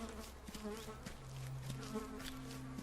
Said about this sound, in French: Tiens, là-bas, il y a un tas de mouches.